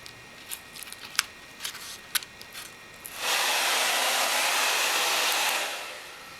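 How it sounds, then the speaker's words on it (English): A blow dryer heats the adhesive under skateboard grip tape, starting after a few short clicks and handling noises and then running as a steady loud whoosh for about two seconds before cutting off. "I'll use the blow dryer again for about a couple minutes just to loosen up the adhesive underneath."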